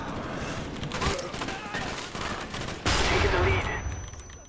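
M16 rifle fire in the Black Ops Cold War video game sounds as rapid, sharp bursts of shots at mid distance, partly blended with a voice talking over the action.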